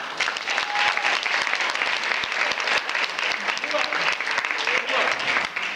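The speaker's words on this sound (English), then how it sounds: "Clap it up for this man." Audience applause fills the room steadily throughout, a dense continuous clapping from a crowd at a motivational talk, with some voices mixed underneath.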